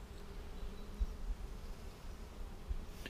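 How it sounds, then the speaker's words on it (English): Honey bees in a bee yard make a steady, low buzzing drone that hangs close throughout, with a few slightly louder swells as individual bees pass near. "There's a lot of bees on this other side."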